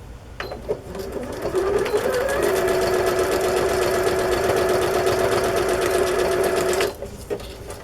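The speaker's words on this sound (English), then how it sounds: "My sewing machine doesn't care if I pick my foot up." Sewing machine stitching through a paper card journal page with black thread, a steady close whir running for about five seconds between brief handling noises.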